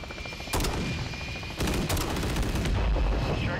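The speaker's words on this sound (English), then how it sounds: "Grenade launcher." A grenade launcher fires in the video game Modern Warfare III. Loud, sharp blasts come in bursts, one single shot and then a quick run of three or four, each with a booming tail.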